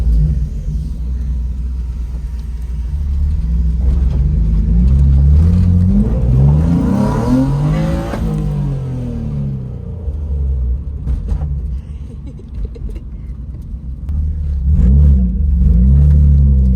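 A Mazda Miata or BMW E36 drives and revs, engine swelling and falling in pitch across several throttle pulls, loud and close with a steady low rumble throughout.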